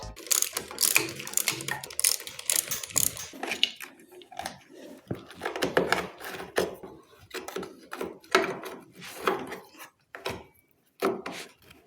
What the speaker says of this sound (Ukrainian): Так, ось приборку я відкрутив.